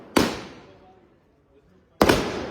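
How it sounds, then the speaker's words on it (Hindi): Two sharp sky shot firework bursts go off overhead at a night birthday celebration, each a loud crack about two seconds apart followed by a fading crackling tail. "ऊपर स्काई शॉट वगैरह चल रहे हैं"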